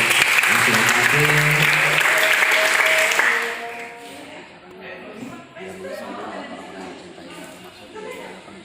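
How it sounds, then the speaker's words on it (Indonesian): A crowd at a public speaking training session gives two performers loud, dense applause for about three seconds, then it dies away into scattered claps under a man's speech. "Tepuk tangan buat dua orang ini."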